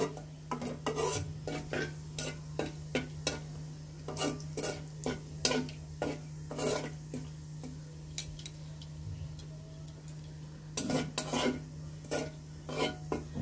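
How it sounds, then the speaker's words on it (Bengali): Cumin seeds frying in oil for a Bengali rohu fish head muri ghonto with chinigura rice, a soft steady sizzle with a low hum beneath and repeated sharp clinks and scrapes of stirring in the pan. "জিরাগুলো ভাজা হয়ে গেলে আমরা আবার পোলাওর চালগুলো এখানে দিয়ে দেব"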